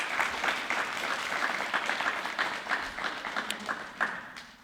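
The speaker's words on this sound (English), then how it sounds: "If I could give everybody a round of applause for being here today." An audience at an Earth Day celebration claps in a steady, moderate round of applause, many hands blending into a continuous patter that slowly thins out.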